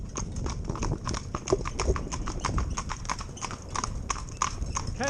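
Two horses driven in tandem break into a canter, their hoofbeats clip-clopping in a steady, fast, overlapping rhythm at close range, with faint calls in the background.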